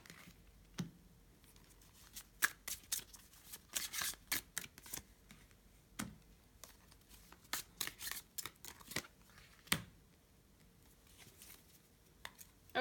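Oracle cards handled and shuffled, quiet scattered snaps and riffling clicks in irregular bursts with pauses between, close and soft, with no talking.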